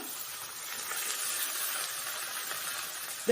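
Sliced large onions, about a quarter kilo, sizzle and hiss steadily in a hot pan while being sautéed for a basmati rice mutton biryani, a continuous soft frying sound with no talking.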